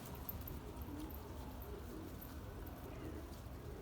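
Soft, low pigeon coos murmur through a steady outdoor hum on a rooftop, faint and somewhat distant, with occasional light fluttering or tapping.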